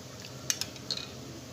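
A metal spoon clinks against a glass while stirring custard sharbat, a few light, quick taps close by in a quiet kitchen.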